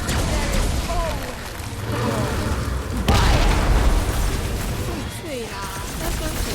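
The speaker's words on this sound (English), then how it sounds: "That car's gonna blow!" In the video game Guardians of the Galaxy, a car blows up with a heavy boom amid chaotic combat noise, layered under voices and background music.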